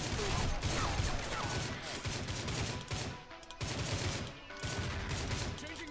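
Dense, continuous gunfire from the video game Line of Sight, with rapid bursts and overlapping shots filling the whole stretch, dipping only briefly before the firing resumes just as heavily.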